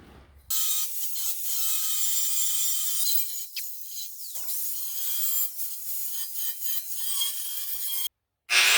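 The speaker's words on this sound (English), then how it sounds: "So we get our grinder and cutting wheel." An angle grinder with a cutting wheel slicing a 4-inch hole into a custom metal bumper, a loud continuous high-pitched grinding whine with rasping variations, briefly easing off mid-cut and stopping near the end.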